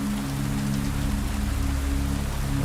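Heavy rain falling at night, a dense, continuous steady hiss of drops on surfaces with a low constant hum underneath, no voices.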